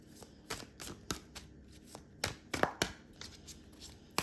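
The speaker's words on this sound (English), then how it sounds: "Give them a really good shuffle and then we'll split the deck." A deck of tarot cards is shuffled by hand in a quiet room, a series of short, crisp riffling and slapping bursts repeating unevenly, close and fairly soft, with no talking.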